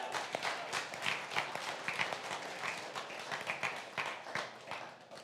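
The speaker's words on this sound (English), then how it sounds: "you can clap for that" A congregation at a Sunday gathering claps together in a sustained round: a busy, crisp mix of overlapping hand claps, moderately close and fairly quiet, holding steady for several seconds.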